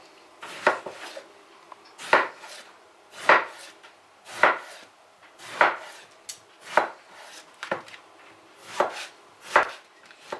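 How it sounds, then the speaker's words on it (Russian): A knife cuts an eggplant into sticks on a board with about ten steady, crisp strikes spaced roughly one second apart, close up with no talking. "Разрезаем баклажанчик пополам и нарезаем"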